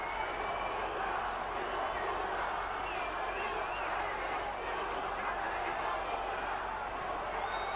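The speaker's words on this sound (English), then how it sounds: "and the crowd start going for it." The crowd at a professional boxing match between Julio Cesar Vasquez and Javier Castillejo keeps up a broad, steady roar of noise beneath a commentator talking throughout.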